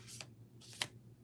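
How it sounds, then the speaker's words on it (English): An oracle card deck is shuffled up close in short riffled bursts, with two quick papery rushes separated by a pause and a low steady hum underneath. "Just gonna shuffle."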